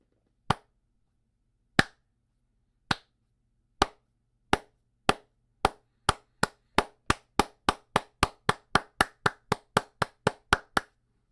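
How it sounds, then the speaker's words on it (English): Loud, popping hand claps recorded close for ASMR, ringing out alone as about twenty sharp, crisp strikes that start widely spaced and steadily quicken into a rapid run. "There's going to be clapping, loud popping claps."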